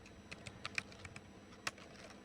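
Keys tapped on a computer keyboard while entering an IP address for a VLAN interface, a quiet, uneven run of about a dozen light clicks with one or two sharper strikes, close and alone.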